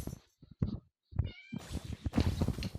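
A house cat meows repeatedly and insistently at close range, each call short and separated by pauses, over background household clatter and some human vocal sounds.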